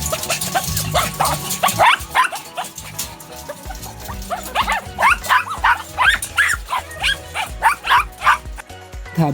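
Several small and large dogs bark and yip excitedly as a cage is opened, a busy run of sharp, repeated barks close by, growing denser and louder in the second half.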